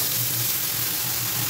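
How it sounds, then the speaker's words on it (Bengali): Spice paste of ground tomato, ginger and chili sizzles steadily in hot oil in a pan, a dense close hiss with no talk. "তারপরে এর মধ্যে মশলাটা দিয়ে দেবো, যেটা মিক্সিতে আমি বাটলাম, টমেটো আদা আর লঙ্কা"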